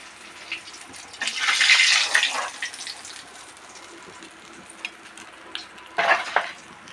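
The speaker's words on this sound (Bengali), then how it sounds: "আর একে একে সব মাছগুলো এভাবে ভেজে নেব" A loud hiss of bhetki fish frying in hot oil rises and fades, with a softer bubbling sizzle in between and another surge near the end.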